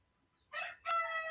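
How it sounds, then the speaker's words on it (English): A rooster crows nearby, a short loud call followed by a longer harmonic crow against an otherwise quiet background, with no talk during the calls. "I do apologize again for these roosters."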